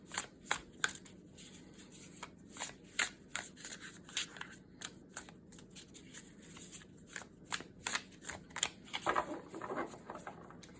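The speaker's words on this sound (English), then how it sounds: "I don't know which way you prefer to shuffle, overhand or like a rifle shuffling." Tarot cards are shuffled by hand in quick repeated bursts of crisp riffling and slapping, close and fairly quiet, with no voices.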